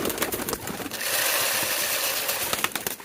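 Caged pigeons kept for rearing coo softly while a steady hissing wash of noise fills the middle of the short stretch, with light scattered knocks at the start and end.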